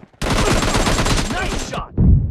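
Dense, continuous gunfire from the mobile shooter PUBG Lite in a team deathmatch, rapid automatic bursts filling the whole moment, loud and close, ending in a short heavier thump.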